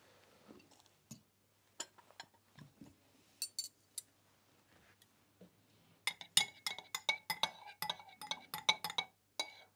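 A spoon or whisk mixes vinaigrette in a bowl, starting as scattered, sparse clinks against the dish, then turning into a rapid, steady run of bright metallic taps. The taps sound close, with no talking.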